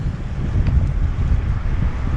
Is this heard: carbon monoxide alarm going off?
no